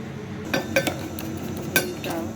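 A fork beats an egg in a dish, producing a few sharp, close metallic clinks and taps in quick succession over a quiet background.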